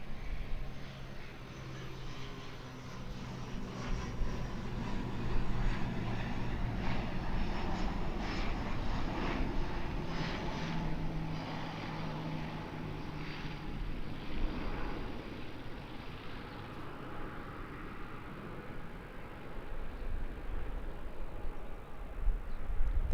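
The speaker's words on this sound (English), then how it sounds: "That there's an ATR 72 coming in from Napier, flight 5020." An ATR 72 turboprop arrives at Auckland Airport from Napier with a sustained engine drone and low propeller hum. The sound is moderately distant, fluctuating gently before building again at the end.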